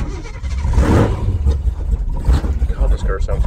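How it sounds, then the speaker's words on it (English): A big block Chevy car engine rumbles steadily with a deep low-end growl, running continuously on a highway while a voice talks over it. "God, this car sounds good."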